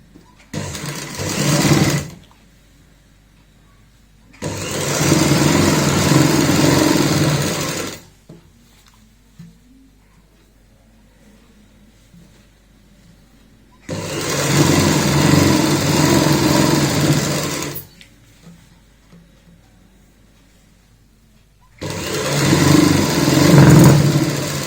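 A domestic sewing machine stitches a half-inch folded hem on a baby frock in bursts of steady whirring, several runs of a few seconds each, separated by quiet pauses.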